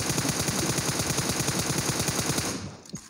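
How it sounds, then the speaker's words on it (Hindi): Rapid automatic gunfire from a video game with a red-dot sight, a loud, steady burst of evenly spaced shots lasting about two and a half seconds, then a brief tail of fading clicks. "मैं वहाँ फायर कर रहा हूँ"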